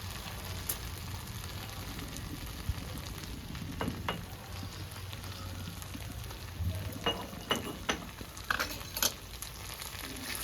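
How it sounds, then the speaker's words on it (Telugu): Dried fish and eggplant frying in a pan, a faint, steady sizzle broken by scattered clicks and scrapes of stirring, with no talking. "ఇప్పుడు ఫ్రై చేస్తున్నా ఇవి వేసుకుందాము ఎండు చేపల్ని"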